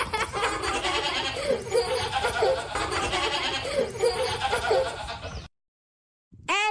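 A goat bleats repeatedly in a children's phonics alphabet song, wavering cries recurring over a busy musical backing before a brief silence and a short new sound at the end.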